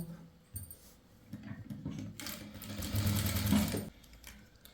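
A sewing machine runs close by stitching a churidar neckline, starting with a few short bursts and then settling into a steady, louder run of rapid stitching before stopping.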